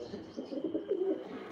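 Pigeons coo softly nearby, low burbling calls rising and falling in a continuous murmur.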